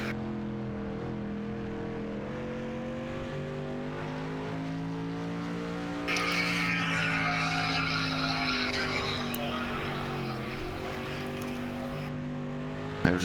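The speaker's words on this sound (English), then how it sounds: "As you see on the racetrack, car number 24 diving down to the bottom." Race cars circle an oval racetrack in a continuous, droning engine roar with rising and falling pitch as cars pass and a second car joins partway through, steady and moderately loud without any voices.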